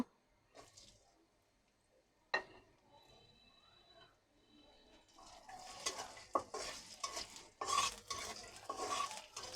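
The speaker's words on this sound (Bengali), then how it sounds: "এখন পেঁয়াজ আর কাঁচামরিচটা দিয়ে দেব" Onion and green chili hit hot oil in a wok; after a quiet start and a sharp clink of a utensil, a rising sizzle builds, broken by repeated metallic stirring scrapes and clatters; no voices.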